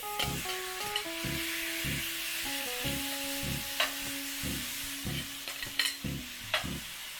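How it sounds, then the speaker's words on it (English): Chicken sizzles in a pan in a thin coat of avocado oil, a steady crackling hiss broken by repeated scraping strokes of a utensil stirring against the pan. "Get the chicken in the pan."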